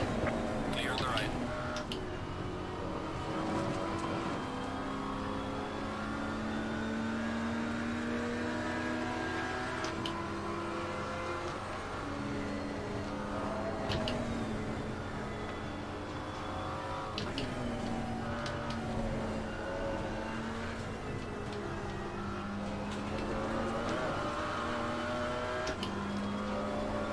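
McLaren GT4 race car in the sim racing game Assetto Corsa Competizione, its engine droning steadily at high speed, with pitch rising and falling through gear changes and other cars nearby, under continuous talk.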